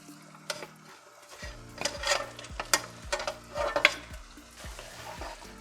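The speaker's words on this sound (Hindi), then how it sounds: "एकदम स्लो आंच पे मटन को भूनेंगे, बीच बीच में चलाते भी रहेंगे।" Mutton frying over low heat with spices and softened tomatoes in a pot, with a steady sizzle under repeated close scraping strokes of a spoon stirring the meat at an uneven rhythm.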